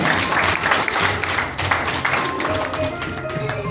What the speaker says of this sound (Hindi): मोहम्मद अमीन जी के लिए जोरदार तालियां